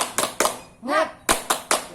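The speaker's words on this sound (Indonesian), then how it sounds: "kalau lemes kita tepuk semangat dulu biar semangat hari ini kita belajarnya" A class of young children performs a rhythmic 'tepuk semangat' cheer in an Indonesian classroom, with sharp unison hand claps in a steady pattern broken by a chanted word, close and lively.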